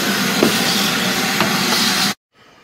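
A shop vacuum sucks water backwards out of a drain line with a loud, steady hissing suction roar that runs continuously, then cuts off abruptly, leaving near silence.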